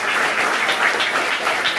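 An audience applauds the teachers at a school event, a dense and steady wash of clapping filling the whole short moment at close range.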